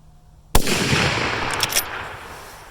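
Rifle with a DNT 7-35x56 FFP scope fired once at a target, a single sharp, loud crack close by, followed by a long echoing rumble that slowly fades.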